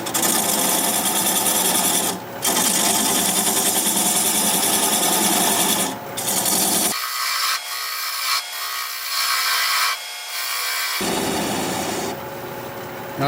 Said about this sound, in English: I'm going to use a 3/8 inch bowl gouge and begin to commence removing the tenon